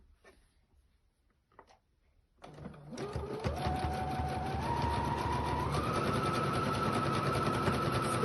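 A domestic sewing machine stitching fabric bunting runs steadily after a quiet start with small handling clicks, its rapid mechanical whir continuing unbroken and close, rising slightly in pitch as it speeds up.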